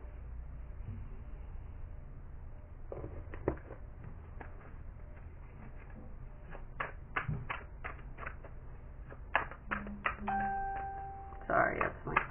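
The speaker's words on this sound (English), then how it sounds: "Sorry, that's my phone." A phone notification tone rings out in a room, with short steady tonal lines standing apart from a quiet background, heard briefly once alongside light clicks and shuffling.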